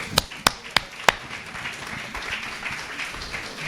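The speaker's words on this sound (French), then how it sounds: "et on vous applaudit" A few sharp, distinct hand claps from an audience at a formal talk featuring Défenseur des Droits Jacques Toubon, four quick claps up front and then only low room noise.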